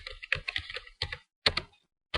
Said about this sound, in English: And we're going to type in Rochester